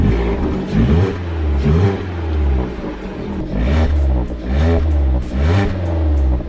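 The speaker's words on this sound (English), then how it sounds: "Let me give the car a few revs and hear what it sounds like before" A Vauxhall Corsa engine with its stock exhaust revs repeatedly, rising and falling in several throaty bursts close by, with a steady idle between the revs.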